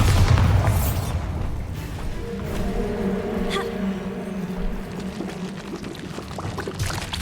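The Bombarda blasting spell detonates in Hogwarts Legacy, a heavy low boom at the start that fades into a rumbling, ringing tail.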